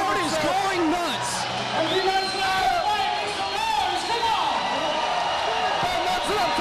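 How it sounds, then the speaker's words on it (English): A crowd at a mixed martial arts fight event cheers and whoops in a loud, rising roar, with excited shouts and whistles layered over it and a commentator talking throughout. "The crowd is going nuts."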